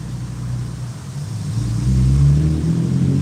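A car engine revs and builds in a low, steady rumble as the vehicle accelerates nearby on a street, growing louder toward the end with no talking.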